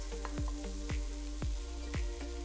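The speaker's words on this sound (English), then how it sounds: "While the veggies are stir frying," Chopped vegetables and mushrooms stir-fry in a hot pan with a steady close sizzle, punctuated by repeated sharp clacks of a utensil tossing the food about every half second.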